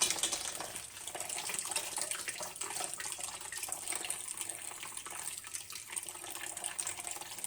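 Liquid is poured through a kitchen strainer in a continuous splashing, trickling stream, steady and fairly soft, running for several seconds without talk.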